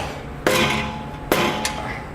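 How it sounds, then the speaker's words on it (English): Rubber mallet tapping a car's tailpipe and muffler section to loosen it, two sharp close knocks about a second apart followed by a fainter third tap. "We use a rubber mallet and tap it a little bit."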